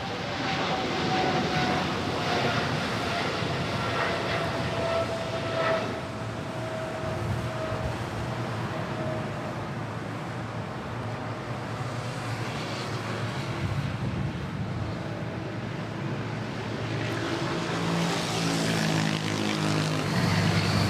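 A Boeing 777 airliner at Manila Airport gives off a steady jet roar, broad and constant, with a faint whine that slowly falls in pitch across about twenty seconds.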